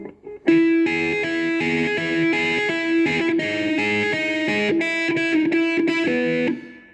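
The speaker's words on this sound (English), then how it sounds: "that sound you're hearing now is an overdrive or a distortion sound" An electric guitar with heavy overdrive distortion plays a sustained, grungy riff of chords, loud and close, with no voices.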